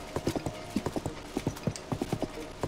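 Horse hooves in The Legend of Zelda: Tears of the Kingdom, a golden horse trotting with a steady, rhythmic clip-clop of close, fairly quiet hoofbeats and no talking.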